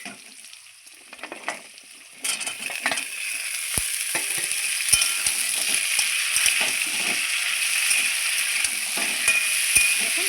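Drumstick stalks drop into a pan of frying potato and squash, and after a brief quiet start a loud, dense sizzle bursts in and holds steady, with occasional small taps and clicks.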